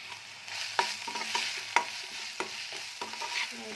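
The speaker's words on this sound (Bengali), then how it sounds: "একটু ভালো করে এটাকে কষিয়ে নেব।" Soya chunks and spice masala being sautéed and stirred in a pan without water, with scraping spoon strokes and a soft sizzle at close range, no talking.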